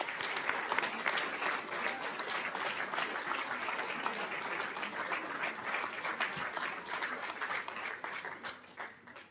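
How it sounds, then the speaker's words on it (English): Sustained audience applause fills a school board meeting room, dense and steady, fading slightly toward the end with no talk over it. "Can we give them another round of applause?"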